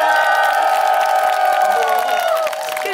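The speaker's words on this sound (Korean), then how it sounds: "즐기셨던 분들만 박수와 함성 부탁드리겠습니다" A large outdoor crowd at a trot music concert in Mungyeong cheers, whoops and claps loudly and steadily throughout, with shouts rising over the dense applause before easing slightly near the end.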